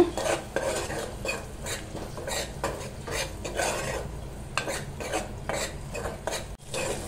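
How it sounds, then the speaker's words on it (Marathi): Onion sautéing in a pan with turmeric and Malvani masala, a spoon scraping and stirring in quick repeated strokes with clinks against the metal over a soft sizzle, close and without voices. "आता आपण यात ना हळद टाकून घेऊया। मालवणी मसाला आणि हे ना असं परतून घेऊया।"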